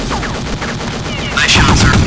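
Gunfire in Counter-Strike, a loud, close run of rapid shots cracking over dense game noise, intensifying in the final second.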